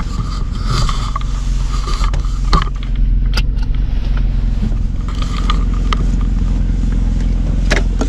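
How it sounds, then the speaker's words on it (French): A BMW 530i engine idling, a steady low rumble held close throughout with faint mechanical clicks and a few sharp knocks on top. "Vous entendez ce ralenti là?"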